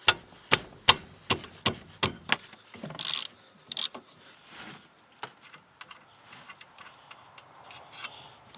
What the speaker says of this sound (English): Seems to be one bolt down here on the bottom. 12 millimeter. I'll just break that loose.